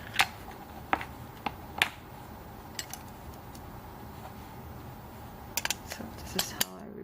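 Small metal clicks and snaps scattered across the stretch, sharp isolated ticks over a quiet hiss, as the blade on an Olfa rotary cutter is removed and swapped for a pinking blade by hand.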